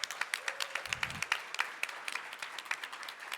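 An audience gives a round of applause at a spring 2023 AIA event, quick clapping at moderate volume with a brief low thump partway through.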